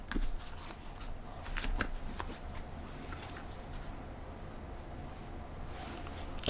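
A deck of tarot cards is shuffled close by, with repeated riffling bursts and soft flicks of the cards, louder at the start and then lighter handling, no talk.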